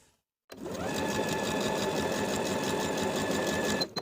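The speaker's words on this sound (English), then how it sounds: "Now from the front of the garment, I'm going to top stitch." Sewing machine top-stitching a seam on beginner barrel-leg pants, a steady close, loud whirring run lasting about three and a half seconds after a short silent start, stopping abruptly at the end.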